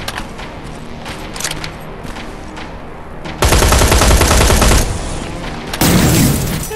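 Rapid automatic gunfire in the video game Terminator Resistance, with sustained loud bursts of machine-gun fire followed by a second intense volley, and no talk over it.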